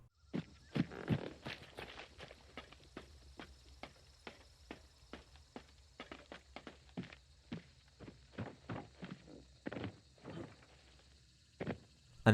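A character in the video game Hunt: Showdown walks and drops onto wooden surfaces without the Lightfoot trait, producing a clear series of irregular thudding footsteps and heavier knocks on wood, with no voices.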